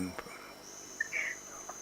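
Crickets chirp at night in a steady, thin, high trill that runs through the whole stretch, fairly quiet, with a few faint brief sounds around it.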